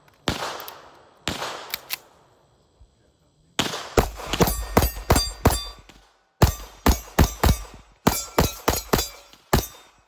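Gunshots from a ported 2011-style Commander 4.25-inch pistol firing 147 grain ammunition, sharp loud cracks in spaced groups of rapid shots with brief pauses between strings, close and unaccompanied by talk.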